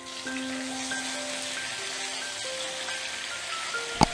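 Soft, steady sizzle of onion paste frying in oil with bay leaf, clove, cinnamon and cardamom, a faint continuous crackle close by, with one brief sharp clink near the end.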